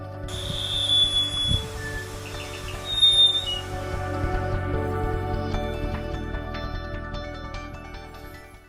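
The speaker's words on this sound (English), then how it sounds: "We were very lucky to see these birds on the way back too." Birds call near a steaming volcanic vent area on a Dominica trail: a few bright, piercing squawks and whistled notes ring out over a low, steady rumble of hissing steam and wind.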